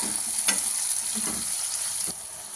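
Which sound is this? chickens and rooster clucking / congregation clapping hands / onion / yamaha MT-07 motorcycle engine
onion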